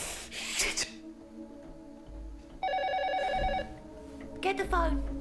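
A telephone rings in one short trilling burst amid tense, hushed voices and indoor clatter, fairly faint under the talk.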